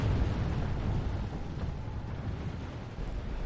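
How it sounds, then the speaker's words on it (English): Empire Great Cannon fire booms in Total War Warhammer siege gameplay, a heavy rumbling blast and sustained explosive roar against a stone wall, loud and continuous. "one cannon can take out a huge stone wall"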